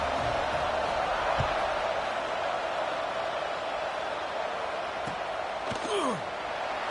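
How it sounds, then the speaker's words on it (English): College football stadium crowd at a Michigan game, a dense, steady buzz of many voices after a score, filling the whole stretch with a few faint thumps and a brief rising tone near the end. "this crowd is buzzing after that last score"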